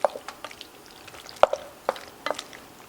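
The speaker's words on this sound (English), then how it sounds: "So let me just stir this up a little better." Macaroni salad stirred in a bowl, giving a few soft, wet squishing and scraping strokes spread out at an irregular pace, close and fairly quiet with no talking.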